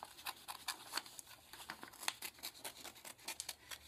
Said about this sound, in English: And then I'm going to take my scissors and cut that circle out.